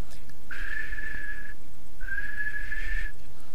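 Someone whistles two long, steady notes, each about a second long, with a short pause between, clear against quiet background noise.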